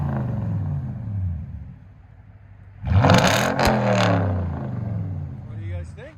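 A Toyota Tundra 5.7L V8 idles deeply, then revs hard to about 4,000 RPM with a roaring, rising aftermarket exhaust blast before settling back; people talk over the noise.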